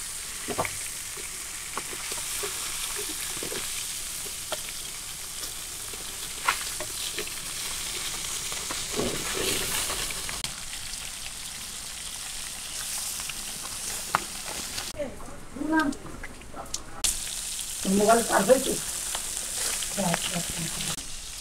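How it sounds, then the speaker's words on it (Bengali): Fish frying in a pan gives a steady, fairly close sizzle throughout, with occasional stirring scrapes and clatters and some brief muffled background voices. "মাছ ভাজা হয়েছে, তো মাছ বেশিও ভাজা হয়ে গেছে"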